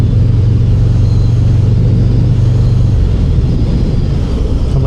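A 2025 Harley-Davidson Fat Boy Softail cruises at highway speed in sixth gear, its engine a loud, deep, steady rumble lugging low beneath heavy wind rush, without a break.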